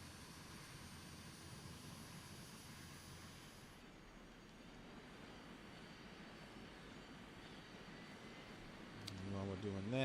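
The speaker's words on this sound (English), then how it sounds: "hey, we're starting up our engines." Simulated jet engines of a Bombardier airliner spooling up at Bangor in Microsoft Flight Simulator X, a steady broadband whine and rumble that builds louder toward the end.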